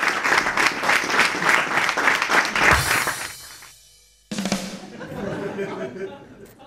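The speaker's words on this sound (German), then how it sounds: "Dann nochmal einen großen Applaus hier für meinen Ingenieur." Applause from a live audience at a magic and entertainment show, a crowd clapping loudly with some chatter and laughter; it breaks off into near silence midway, then resumes with clapping mixed with voices.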